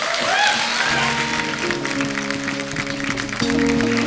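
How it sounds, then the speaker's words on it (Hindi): Studio audience applauding for actresses Aruna and Bindu on a comedy show, a steady wash of clapping, loud and close, with a sustained musical tone underneath. "एक बार अरुणा जी के लिए और बिंदु जी के लिए जोरदार तालियां हो जाएं।"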